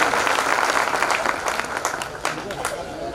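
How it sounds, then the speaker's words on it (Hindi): Loud, dense applause from a large crowd welcoming Kushwaha ji at a Lavkush Jayanti 2024 gathering held despite rain, sustained for the whole stretch with a murmur of voices mixed in. "कुशवाहा जी पूरी जोर जोर से तालियों के साथ स्वागत किया जा रहा है।"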